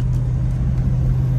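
A 1996 Chevrolet Impala SS V8 rated at 260 horsepower idles with a steady, deep low rumble, loud and close, with no talking over it.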